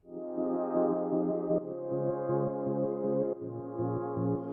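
A looping funk music sample with a repeating bass riff and warm chordal tones changing every couple of seconds, steady and unaccompanied by voices.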